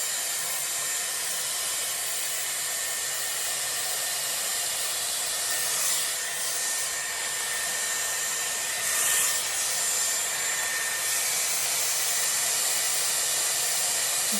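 A Dyson Airwrap round brush blow-drying hair gives a steady, loud airflow hiss throughout, with faint brushing rubs swelling briefly now and then.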